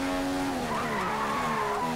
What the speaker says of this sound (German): Der Wagen rutscht schön.